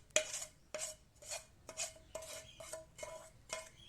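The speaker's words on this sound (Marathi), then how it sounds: "सर्व मिश्रण ताटावर टाकू आणि त्याला छान सर्कलमध्ये फिरवून घेऊ" A hot peanut and jaggery chikki mixture is poured onto a greased plate and spread in circles with a utensil, giving about eight rhythmic scraping clinks of metal on the plate, close and fairly soft, with no talking.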